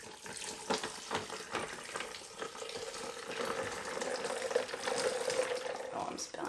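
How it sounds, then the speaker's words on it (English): Hot hibiscus tea is strained into a pitcher holding two cups of ice, making a close, steady pouring and splashing trickle that runs for several seconds. "I'm actually going to strain it into 2 cups of, or in a pitcher with 2 cups of ice."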